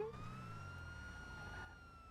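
A video game police siren wails steadily at moderate distance, its tone holding and slowly sliding, with a low engine rumble underneath.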